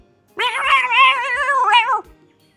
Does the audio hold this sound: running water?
no